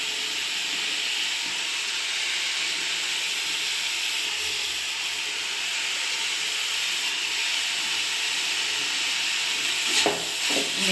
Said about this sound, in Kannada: ಒಂದು 5 ನಿಮಿಷ ಫ್ರೈ ಆಗಲಿದೆ.